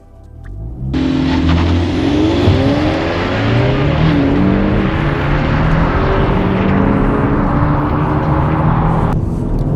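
A 2021 BMW 228i Gran Coupe xDrive with 228 horsepower accelerates hard from 0 to 100, its engine note climbing through several rising gear sweeps, loud and close inside the cabin.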